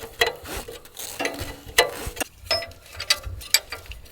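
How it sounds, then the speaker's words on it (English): A ratchet wrench loosening an alternator to tighten the engine belt in a cramped engine bay of an off-grid power setup in Alaska. Bursts of sharp, close metallic clicking come in uneven runs, with pauses and knocks between them. "we're gonna loosen up the alternator and tighten down the belt just a little bit"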